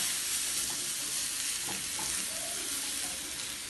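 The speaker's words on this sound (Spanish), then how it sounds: "movemos el ajo, que no se queme, le echo un chin del jugo de limón" Garlic sizzles loudly and steadily in a hot pan as a splash of lemon juice goes in, a dense continuous hiss with faint stirring clicks and no voices.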